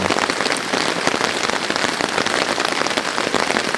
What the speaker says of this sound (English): I'm going to sit here and listen to the rain for a few minutes